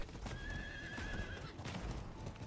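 A spider horse mount in Diablo 4 neighs with a long whinny over steady clip-clop hoofbeats, loud and close within a busy game mix.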